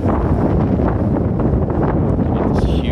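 Wind blows across a golf driving range at Kapalua on Maui, a loud constant low rumble buffeting the microphone, with brief rustling and no voices.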